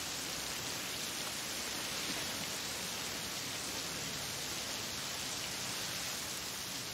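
Heavy rain from a TV drama scene, a steady, dense hiss of downpour that holds evenly throughout without any voices.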